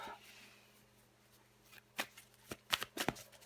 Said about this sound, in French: Je vais encore tirer quelques cartes pour vous les taureaux.